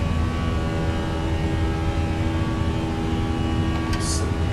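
A Fenix A320 airliner climbing after departure in Microsoft Flight Simulator 2024 gives a loud, steady engine drone with a dense low rumble and humming tones, constant throughout, with a brief click near the end.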